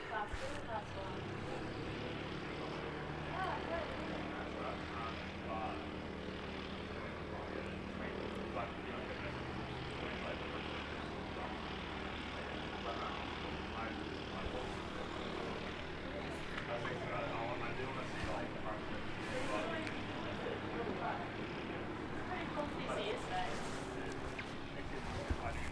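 An Air New Zealand airliner, flight NZ546 to Auckland, pushes back at Christchurch Airport, heard as a steady distant jet engine rumble and whine underneath continuous talking throughout.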